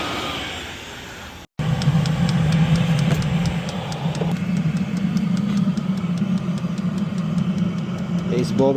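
A Vevor diesel heater runs steadily with a low, continuous hum and a faint ticking pulse. It starts after a brief cut and holds an even drone with a slight shift partway. The sound is close and is the only sound.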